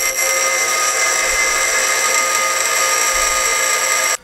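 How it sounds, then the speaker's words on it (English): A bench grinder rounds off the corners of a steel floor pan for a Ford Falcon, giving a loud, continuous, high-pitched whine that holds steady and then cuts off abruptly at the end. "bench grinder"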